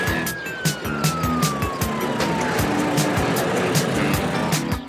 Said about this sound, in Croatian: Upotrijebimo sirenu.